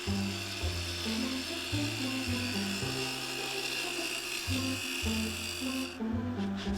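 A woodturning tool cutting a silky oak bowl on a lathe, a buzzing, rasping whir rising and dropping in short bursts as the tool bites and lifts, fairly close with no voices.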